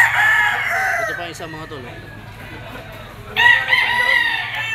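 A yellow-legged gamefowl bull stag crows loudly at a Lipa auction market, one crow at the start and another near the end, with someone talking between them.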